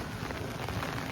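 Heavy rain pours down in a dense, steady hiss and patter, close and loud, continuing without a break.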